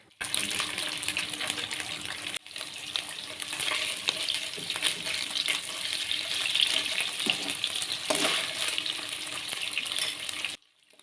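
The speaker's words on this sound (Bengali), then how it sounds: "চিকেনগুলোর এক পাশ ভাজা হলে আরেক পাশ ভেজে তুলে নেব।" Chicken pieces fry in a pan, giving a steady, dense sizzle and crackle that runs close and even for about ten seconds, then stops abruptly.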